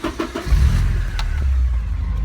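A Porsche 944 engine turns over and catches, settling into a loud, close, steady low idle after a few initial clicks.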